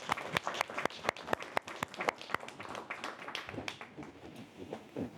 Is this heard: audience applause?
yes